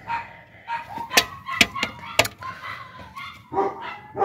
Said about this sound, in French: Ça, c'est les chiens, ils aboient